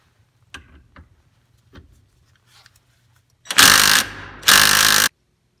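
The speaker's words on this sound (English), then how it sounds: "Now I'm using the 21mm socket to get off the lower bolt." Socket wrench with a 21mm socket loosening the lower bolt of a Corvette magnetic damper, a few faint clicks and taps followed by two loud sustained whirring bursts, close.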